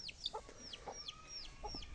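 Chickens, including an aseel rooster and a black hen, cluck in short, quiet, repeated calls from close by on a farm, several soft bursts spread across a couple of seconds.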